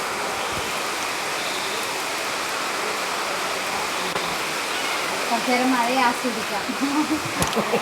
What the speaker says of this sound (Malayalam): വാ നല്ല മഴയാണ്